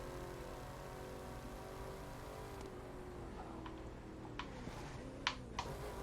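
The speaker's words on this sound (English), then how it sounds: "so we'll listen to the engine." A car engine in the racing video game The Crew 2 hums steadily with layered low drone and shifting pitch, joined near the end by a few sharp clicks and brief bursts.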